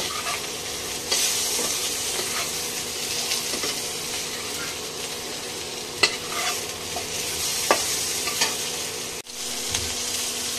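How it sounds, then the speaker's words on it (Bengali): Onions fry in oil in a pan with a dense, even sizzle close up, and sharp clicks and scrapes come now and then as they are stirred, before a brief break near the end. "পেঁয়াজ ভেজে নিচ্ছি"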